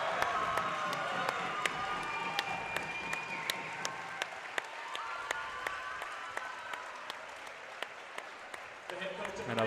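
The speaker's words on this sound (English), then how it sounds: "a very hearty crowd welcome for him" A crowd at a high school basketball senior night applauds and cheers steadily for a senior player, with scattered sharp claps and crowd voices throughout, a moderately loud, continuous ovation in a gym.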